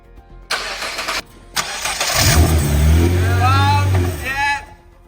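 Nissan GTR under repair for an oil leak: starter cranking, then the engine fires and settles into a loud, close, rumbling idle with a couple of blips, with people talking over it.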